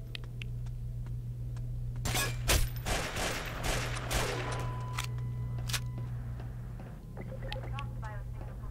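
Gunfire in the Half-Life 2 mod Logistique: a sharp burst of several rapid shots, then scattered single cracks over a steady low game hum, fairly close and loud.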